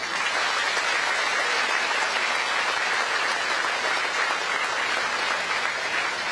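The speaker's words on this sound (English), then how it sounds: "please give my board member a big round of applause." An audience applauds steadily and loudly for a board member at a groundbreaking ceremony for a Malaysian Han studies institute, the dense clapping holding at an even level throughout with no speech over it.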